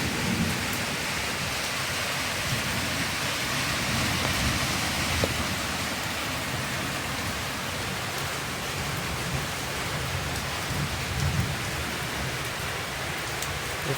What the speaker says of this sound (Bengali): কী বৃষ্টি হচ্ছে, কী বৃষ্টি পড়ছে এদিকে।